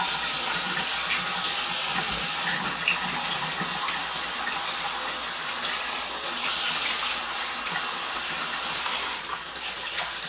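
Water runs steadily from a bathroom sink faucet while a face peel is rinsed off. The flow is even and close for the whole stretch, with small splashy changes and no voices.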